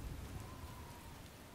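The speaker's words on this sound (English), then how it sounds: "Well, it is raining." Rain falls steadily in the video game Oblivion, a faint, even wash of patter with a low rumble underneath and no other sound.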